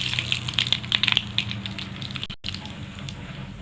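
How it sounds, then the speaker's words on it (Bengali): Black cumin seeds hit hot oil in a cooking pan, giving a burst of sharp crackling pops over a steady sizzle that settles into a smoother, continuous frying hiss. "তেলটা গরম হয়ে গেছে, দিয়ে দেবো কয়টা কালো জিরে"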